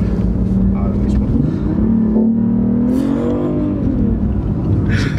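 The three-cylinder 1500 cc petrol engine of a BMW i8, humming and rising in pitch as it accelerates, heard from inside the car under steady cabin noise while people talk.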